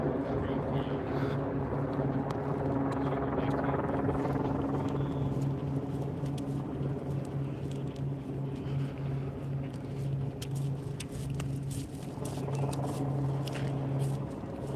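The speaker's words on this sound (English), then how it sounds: "You can hear the helicopter." A helicopter overhead makes a steady, moderately loud droning hum throughout, with faint talking underneath.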